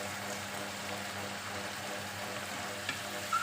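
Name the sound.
food frying and splattering in a pan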